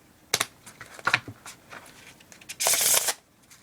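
Playing cards being shuffled for a magic trick: a few short riffling flicks, then one dense burst of riffled cards near the end, close and clear with no talk.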